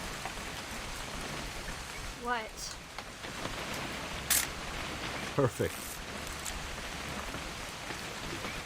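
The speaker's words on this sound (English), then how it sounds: "It's gonna rain the whole weekend, isn't it?" Steady rain hisses softly throughout a scene in the video game What Remains of Edith Finch, with brief louder sounds and short speech breaking in now and then.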